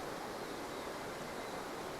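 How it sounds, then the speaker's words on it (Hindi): Murmuring stream of water flowing through a natural setting, a steady broad rushing wash with no breaks, soft and even throughout. "पानी की जो कलकल धारा,"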